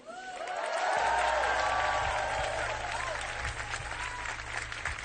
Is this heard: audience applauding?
yes